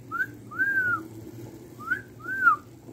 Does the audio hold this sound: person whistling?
yes